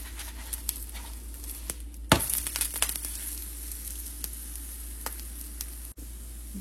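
Cabbage and carrot thalipeeth frying in oil on a pan, a steady bright sizzle with a louder burst of crackling midway as it is flipped, then settling back to an even hiss.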